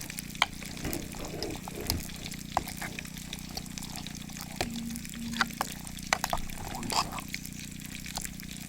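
Roasted coconut being stirred into a pumpkin erisserry curry in a pot, a steady soft sizzle with scattered scraping and clicking strokes of the spoon throughout.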